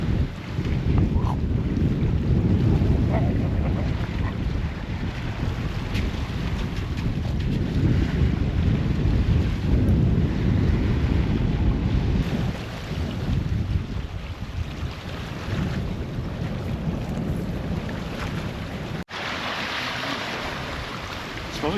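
Strong wind buffets the microphone on a beach, with a roaring, gusting rush and surf churning underneath that hold steady throughout, easing only slightly near the end.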